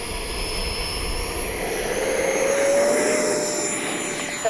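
An E-flite 70mm Viper RC jet takes off, its electric ducted fan a steady loud whine with a rising high tone, held close and continuous with no talking.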